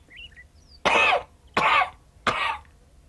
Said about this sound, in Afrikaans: Hoes.